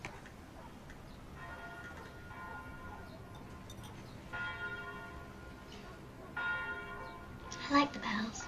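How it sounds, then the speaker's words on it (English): Church bells ring in the distance in repeated swells, faint and resonant, over a low murmur, with a brief clatter near the end. "I like the bells."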